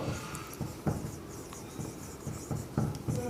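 Marker or chalk strokes on a board during a physics class, a run of short scratchy taps and squeaks at an irregular pace, close and moderately quiet with no talking.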